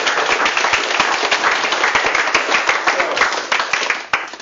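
Audience applause at a physics lecture on the origins of mass, a dense run of many hands clapping that stays loud and steady for several seconds before thinning out near the end.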